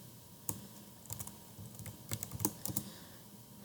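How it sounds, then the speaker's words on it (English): Quiet, close keyboard typing as a sudo iptables command is entered on a computer, a few scattered keystrokes then a quicker cluster of clicks, no speech. "I just want to type sudo iptables at first, and then -a"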